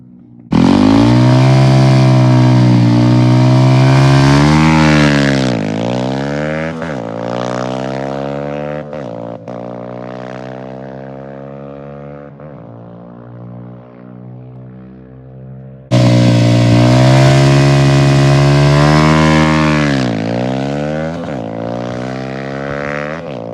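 Engine of a cheap old jeep straining while pulling a heavy load of about 12,000 pounds, a loud, close, steady roar that rises and falls in pitch as it shifts and works hard, with no talk over it.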